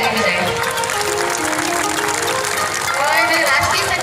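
Loud crowd clapping for national officials of the Ambedkar Shakti Youth Organisation at a Babasaheb Ambedkar 134th birth anniversary gathering, a dense steady wash that continues with voices over it.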